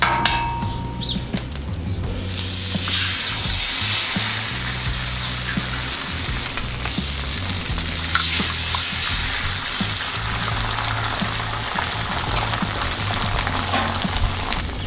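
Two eggs fry sunny side up on a 36-inch Blackstone griddle with a loud, steady crackling sizzle that runs unbroken throughout, with occasional small pops and no voices.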